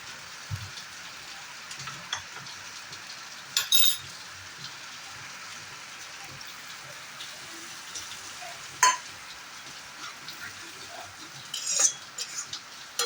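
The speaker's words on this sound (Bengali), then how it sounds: "আবার এটা আমি একটু ভালো করে কষাবো, মানে কিন্তু কন্টিনিউয়াসলি না নাড়লে কিন্তু যেহেতু বাদাম আছে এটা কিন্তু ধরে যাবে" Jackfruit seed masala with peanuts fries quietly in a pan, a faint steady sizzle broken by a few sharp scrapes and clinks of a spoon stirring against the vessel.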